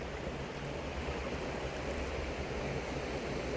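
Yakima River running high and fast after reservoir water releases for a May salmon pulse, a steady broadband rush of flowing water that stays constant and fairly close, with no voices.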